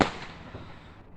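A single sharp firework bang bursts outdoors on Bonfire Night, loud at first and then decaying into a rumbling echo with a fainter crackle just after, heard alone without voices.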